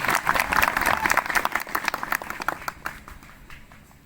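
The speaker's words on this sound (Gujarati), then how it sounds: "ખોડીદાસ મહારાજના નામથી જોરદાર તાળીઓનો ગરગડાટ થઈ જાય." Crowd at a devotional gathering breaking into vigorous applause, dense clapping that starts loud and gradually thins into scattered claps as it fades over a few seconds.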